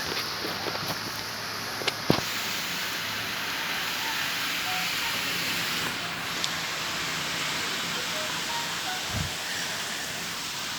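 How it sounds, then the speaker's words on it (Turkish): Heavy rain pours steadily during an Ankara storm, a dense unbroken hiss of water with a few faint knocks and clicks, close and constant throughout. "çok fena yağıyor ya"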